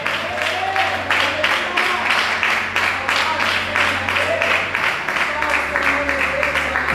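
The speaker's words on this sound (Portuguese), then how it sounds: "Glorifica a Deus com as suas palmas," A church congregation claps in a fast, even rhythm, many hands striking together in regular pulses that fill the room, with a low sustained tone beneath the clapping.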